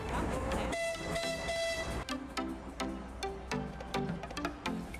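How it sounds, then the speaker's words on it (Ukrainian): A small children's railway train in a Lviv park, with a whistle tone followed by rhythmic clacking of wheels over rail joints, steady and moderately close. "Це львівська дитяча залізниця."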